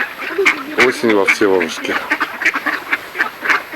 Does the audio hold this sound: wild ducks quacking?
yes